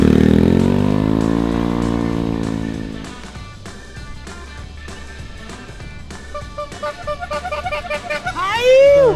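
Motorcycle engine revving up and settling, a loud falling rev in the opening seconds, then uneven engine noise with a rising whine near the end, heard among different bikes on a Hawaii surf trip.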